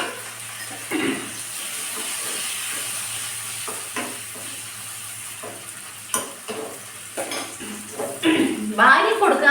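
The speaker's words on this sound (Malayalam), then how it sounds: "ഇനി ആ എണ്ണയിൽ തന്നെ ഞാൻ ഒരു 3-4 പച്ചമുളകും കൂടെ വറക്കട്ടെ." Three or four salt-stuffed green chilies go into the oil left from frying fish. Pans and utensils clink and scrape sporadically, then the sizzle swells louder toward the end.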